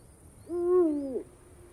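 A Eurasian eagle-owl gives one deep, clear hoot lasting under a second, close and distinct against a quiet night background.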